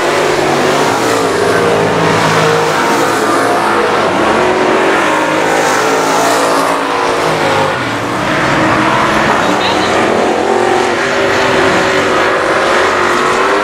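Race cars roar around I-37 Speedway oval in a dense, continuous wall of loud engine noise, with revving and passing surges throughout.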